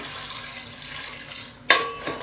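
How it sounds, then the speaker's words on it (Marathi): Water is poured into a pan of crab curry masala: a soft steady wash of sound, then a sudden splash and gurgle as the water hits the pan, close and alone. "आता मी हे पाणी घालते"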